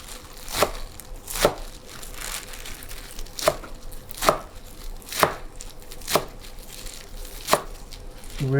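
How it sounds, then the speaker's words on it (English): A knife chopping spinach and herbs on a cutting board, about nine evenly spaced, crisp thuds with rustling leaves in between, close and alone. "I'm gonna chop this spinach and herbs."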